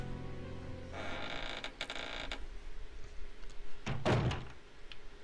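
A door creaks open in the Resident Evil Code Veronica X video game, a long wooden groan followed by a heavy thunk as it settles, loud and close with no talk.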